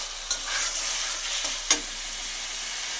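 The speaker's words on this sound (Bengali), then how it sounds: "মাছটা দিয়ে কিছুক্ষণ এটাকে নাড়তে হবে।" Catla fish, already fried, stirred into chilli sauce in a pan, a steady sizzle with a few sharp scraping strokes of the spatula, close and alone.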